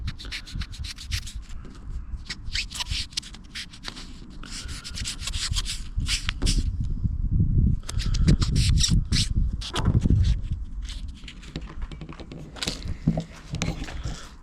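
Rhythmic scratchy strokes of fine sandpaper rubbed by hand over VW Caddy car paint, close and repeated in bursts with short pauses.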